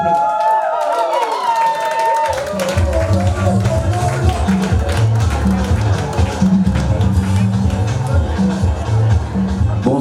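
Guests at a surprise 60th birthday party clap together over loud, steady party music with a thumping beat. The clapping is close and dense and continues through the whole stretch.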